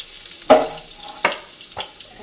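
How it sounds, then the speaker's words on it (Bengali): Cauliflower pieces fried in hot oil until red-brown, with three distinct spattering bursts and stirring scrapes over a low background sizzle. "ফুলকপিগুলো আমার একদম লাল লাল করে ভাজা হয়ে গেছে, এই দেখো"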